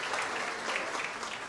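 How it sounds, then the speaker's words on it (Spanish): A brief burst of audience applause at a Christian family movement gathering, dense even clapping from a crowd heard alone for a moment. "Un fuerte aplauso."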